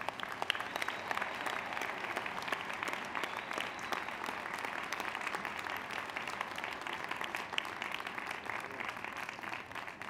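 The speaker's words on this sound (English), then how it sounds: "Let's give them a big round of applause." A large crowd at a National Education Association gathering claps in sustained, even applause for around ten seconds, a thick continuous patter without speech over it.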